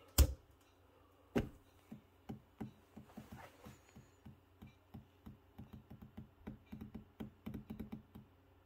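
A password typed on a Mac keyboard, quiet indoors: a sharp opening tap, then a steady run of individual key presses that quicken toward the end, close and clear with no voice.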